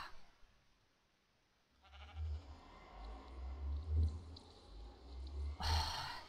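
Sheep bleat in Minecraft, a few soft low calls rising after a quiet start and continuing steadily, with a brighter burst near the end.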